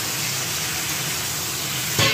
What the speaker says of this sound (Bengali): এদিকে চিকেন ভাজা চলছে